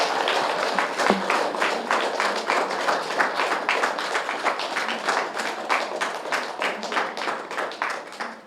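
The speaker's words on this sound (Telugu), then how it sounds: "గట్టిగా క్లాప్స్ కొడదాము, గట్టిగా." A crowd at an inauguration event for a pyramid temple claps loudly in a steady, rhythmic unison beat that fades slightly toward the end.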